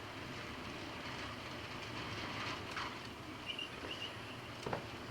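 Southbound model coal train pulled by an FP45 locomotive on a layout, a steady rumbling rail clatter with faint squeaks, continuous and moderately close throughout.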